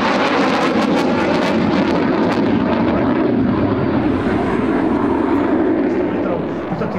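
A Saab JAS 39D Gripen fighter jet's engine roar, loud and steady throughout with no breaks, swelling and hissing as it passes, at an air show.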